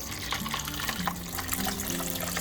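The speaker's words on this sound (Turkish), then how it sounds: "dünden beri beklettiğim suları dökmeye başlayacağım" Stored water pours steadily into a homemade ornamental pond built from household materials, a continuous splashing gush that stays fairly loud and even throughout with no talking.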